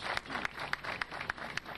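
An audience at a volleyball association event in La Romana applauds, a faint, distant patter of clapping with a few sharper claps standing out.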